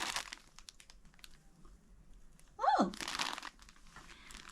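Rustling and crinkling of a plastic yarn package handled up close, with a sharp tearing, slicing burst of scissors cutting it open partway through.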